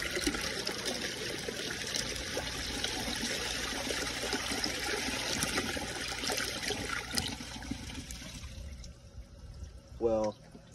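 A 2002 Sanitarios Maracay toilet, rigged as a side flusher, releases a sustained close rush and trickle of water that fades out near the end, followed by a short burst of rattling.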